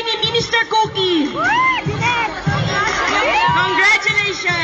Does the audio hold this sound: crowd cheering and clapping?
yes